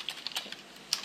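Quick, light clicking of keys on a computer keyboard while entering a line of Java code, a brief run of crisp close taps with one sharper keystroke near the end.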